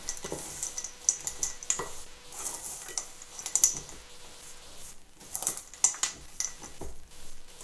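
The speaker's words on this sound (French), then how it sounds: "Et, dernière étape, on mélange." Cookie dough with chocolate chips being stirred in a bowl: quick irregular scraping and tapping of the utensil, close and moderately loud, with no voices.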